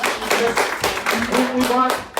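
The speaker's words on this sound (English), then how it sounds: "let's give her a round of applause" Brief burst of audience clapping at a City Island community meeting, a fairly close patter of hands with voices speaking over it.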